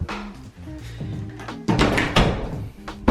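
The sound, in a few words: bathroom door opening and closing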